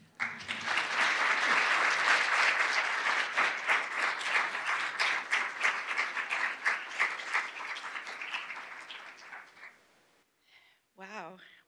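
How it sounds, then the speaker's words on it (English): Sustained audience applause at a State of the Child 2023 presentation, dense steady clapping for nearly ten seconds that thins out, followed by a brief spoken voice at the end. "giving another round of applause for Faith"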